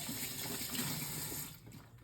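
A tap runs steadily into a sink while pumpkin is washed, a continuous close splashing rush that eases off toward the end, with no talk.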